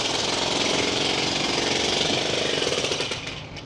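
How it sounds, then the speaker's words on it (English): Jackhammers pound at a street construction site in Siem Reap, Cambodia, a loud, dense, continuous hammering roar that stays steady and then eases slightly near the end, with no voices. "You got jackhammers."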